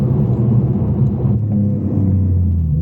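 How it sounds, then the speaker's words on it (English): A Porsche 992 Turbo S Convertible with a titanium exhaust and 700bhp upgrade rumbles loud and close, its deep exhaust note holding steady and dipping slightly in pitch partway through. "It's the crackle that it comes with. This is why I love the titanium exhausts."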